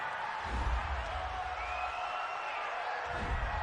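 A home stadium crowd at a Green Bay Packers versus Los Angeles Chargers football game cheering a penalty call, a steady, distant roar that swells twice, with no speech over it.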